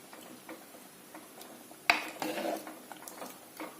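A lid goes onto a pot of sambar set to boil, landing with one sharp metallic clank and a short rattle, amid faint light clinks and taps in a quiet kitchen.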